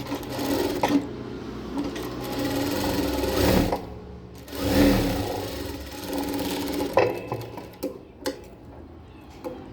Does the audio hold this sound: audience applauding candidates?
no